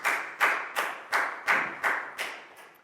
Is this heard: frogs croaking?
no